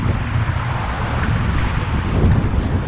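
Wind buffets the microphone of a GoPro Hero5 camera outdoors, a loud, constant, rough low rumble with gusty swells, close and unbroken throughout with no voices.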